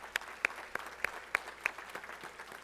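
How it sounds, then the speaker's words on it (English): A few scattered hand claps ring out from an audience at a talk, sparse and uneven with individual sharp claps standing out against a quiet room. "Yes, they deserve a clap."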